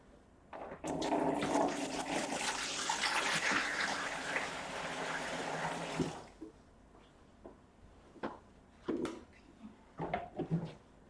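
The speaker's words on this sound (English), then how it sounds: "So now I'm gonna put some water inside to check how it is leak-proof." Water pours steadily into a container being tested for leaks, a full rushing flow for about five seconds that stops abruptly, followed by faint drips, taps and handling sounds.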